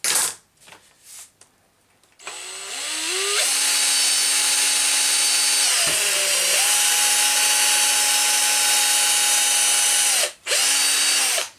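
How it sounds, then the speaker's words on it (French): A power drill bores into a Traxxas Sledge RC car part, a loud whining motor running steadily for several seconds with brief dips and a short pause near the end. "On perce pas trop profond de façon voulue"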